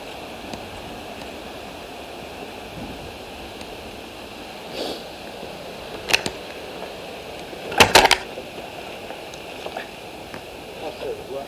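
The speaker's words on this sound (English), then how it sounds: "The way that wind's getting up, I think we best head back." Outdoor wind rumbles and buffets against a microphone in a steady roar, with a few sharp gusty knocks and crackles breaking through.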